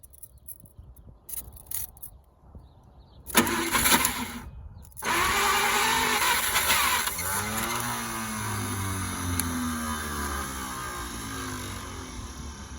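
A 1950 Packard barn find starting for the first time in 40 years: cranking and sputtering bursts, then the engine catches and settles into a steady, rough idle, close and loud.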